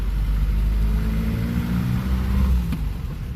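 Steady, smooth engine drone from a 75-year-old car under way, heard loud from inside the cabin with a slight swell in revs as it drives on.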